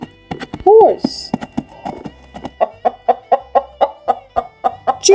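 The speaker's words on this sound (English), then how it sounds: "horse," A farm horse gives a brief neigh, followed by a steady run of clip-clopping hooves that continues to the end, close and distinct.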